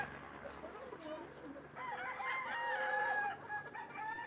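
Chickens cluck and a rooster crows nearby in a gamefowl area, with several overlapping calls growing louder midway through.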